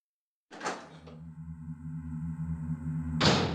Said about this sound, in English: I'm going to go in through this door this time